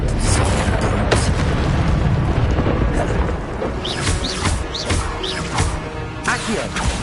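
Incendio and Expelliarmus spells fire during a Hogwarts Legacy battle against brutes, giving repeated heavy booms and crashing impacts over dense game noise, with a voice calling out at moments.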